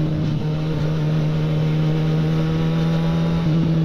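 A Yamaha XJ6 motorcycle with a straight-pipe exhaust holds a loud, steady engine drone with a strong low hum and a slight rise near the end, close and continuous with no voices.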